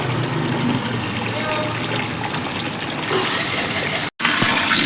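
Water gushes steadily as flower pots and bird-water pots are filled, a continuous splashing wash that swells slightly partway through, with a brief cut before resuming; a faint voice may be present.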